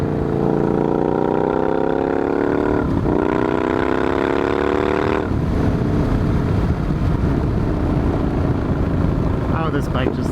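A motorcycle engine revs loudly, its pitch climbing through the gears with gusty wind noise over it.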